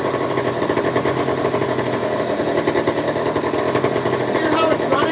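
A McCulloch Super 55 chainsaw engine idles loud and close, with a steady rough buzzing putter that neither speeds up nor slows down across the whole stretch.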